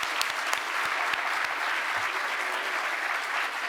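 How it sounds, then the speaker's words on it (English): Audience at a golden anniversary founders luncheon clapping for an honoree, a dense, sustained round of applause from a room full of people, even and fairly loud throughout with no break. "please join us in giving Winsome a wonderful round of applause"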